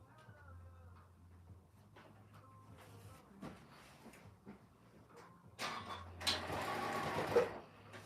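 A home sewing machine stitches a quilt, running in short ticking bursts at first, then a louder steady whir near the end, fairly close in a quiet room.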